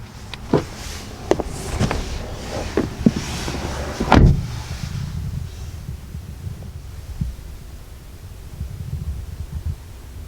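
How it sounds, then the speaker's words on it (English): Rear power window of a 2019 Honda Civic Sedan, Sport trim, running with a low motor hum between soft clicks and thumps, ending in a heavier knock as it stops, heard close inside the car. "your rear window is power, of course"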